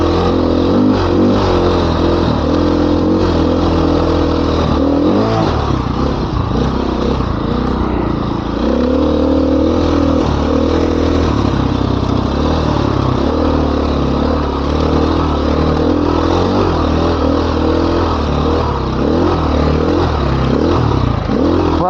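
Dirt bike engine running steadily in second gear while climbing Rampart Range Trail 662 in Colorado, a loud, continuous mid-pitched drone with constant throttle and slight revving changes throughout.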